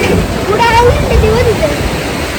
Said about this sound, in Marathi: तर हा आहे उडुपीचा समुद्र मोठा